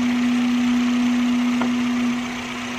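A Honda City or Jazz automatic with an i-VTEC engine idles with a steady low hum and a constant tone, then settles slightly quieter near the end, close up with no talking.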